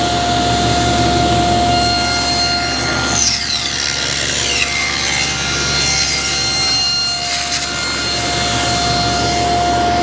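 A saw blade cuts a rabbet along American chestnut frame stock as the piece is fed through, producing a continuous loud whine with a steady motor tone and shifting rasp as the wood passes, with no talking.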